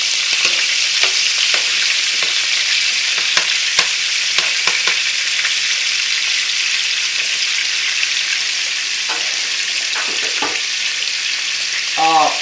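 Sirloin tenderloin steak sizzles in butter in a pan, a loud, continuous, crackling fry with scattered sharp clicks and scrapes from a utensil. No one speaks.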